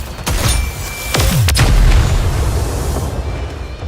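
Shotgun blasts in a video game with anime-style characters, a few heavy booming shots spaced about a second apart over a steady rumbling background.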